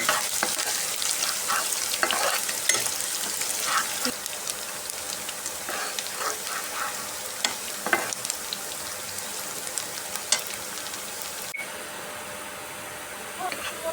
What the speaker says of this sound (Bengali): পেঁয়াজ রসুন ভালো মতো ভেজে নেবো